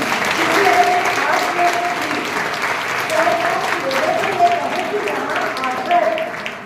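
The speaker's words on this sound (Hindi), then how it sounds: "आपको उनके लिए जोरदार तालियां बजानी है" Sustained, dense applause from a large school audience for student speakers fills the whole stretch, with voices faintly audible underneath the clapping.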